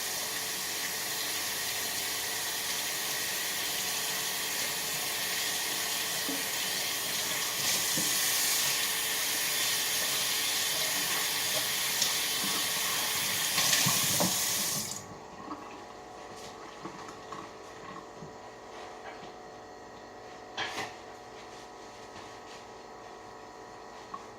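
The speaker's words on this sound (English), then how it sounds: "But first, let me wash my hands after I do that." A kitchen tap runs in a steady broadband rush for about fifteen seconds while hands are washed, then shuts off, leaving a quiet room with faint clinks and handling noises.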